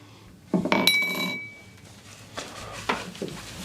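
Whiskey stones drop into a glass with a couple of sharp, ringing clinks near the start, followed by softer knocks and rattles as they settle, close up and with no talk.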